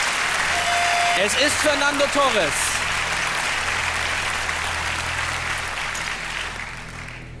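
Sustained applause from a game show studio audience fills the whole stretch, with a voice speaking over it early on, then the clapping continues alone and slowly thins.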